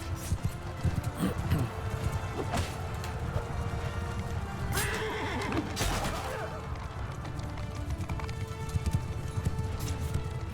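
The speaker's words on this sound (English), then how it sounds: "Alright, let me go after these horses." Horses in the Mount & Blade II Bannerlord video game clop and gallop close by in a busy, steady rhythm, with a whinny cutting through midway over the game's battle noise.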